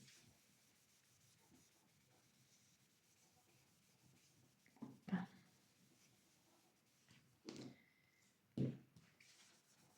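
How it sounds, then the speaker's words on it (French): A pencil eraser rubs on paper, producing soft scratchy rubbing strokes close by, with a few louder brushing bursts over a quiet background. "Il faut que je gomme le reste, par contre."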